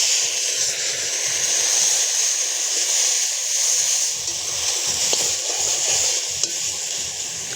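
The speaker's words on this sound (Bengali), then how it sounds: "প্রথমে আমরা পেঁয়াজ কুচি দিয়ে দেবো তেলে।" Chopped onions fry in oil in a wok, giving a loud, steady, bright hiss that holds the whole time, with faint low clatter underneath and no speech.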